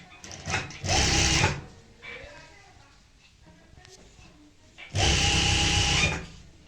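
A sewing machine stitches pleated palazzo pants in two loud close bursts of rapid whirring, with a person speaking quietly in the pauses between runs.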